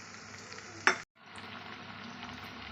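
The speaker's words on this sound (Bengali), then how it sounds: "পেঁয়াজ আর টমেটোটা ভালো করে ভেজে নিয়েছি এখন দিচ্ছি আদা রসুন বাটা" Onion and tomato with ginger-garlic paste fry in a pan, a steady close sizzle broken by a brief louder hiss as the paste goes in, then a short dip before the frying noise returns evenly.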